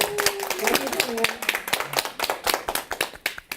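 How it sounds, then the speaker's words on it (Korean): A lecture audience claps to welcome a professor, a short burst of close, uneven hand claps with some voices audible over it. "박수로 맞이해주세요."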